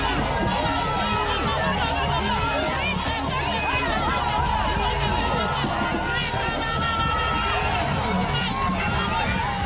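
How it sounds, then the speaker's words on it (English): A dense crowd chatters and cheers in a steady, loud roar of many voices that holds without a break for the whole stretch, with no single voice standing out. "Okay, so people are cheering."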